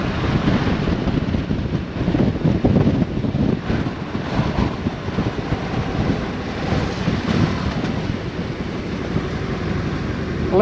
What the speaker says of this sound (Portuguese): Estou a levar com muito vento na cara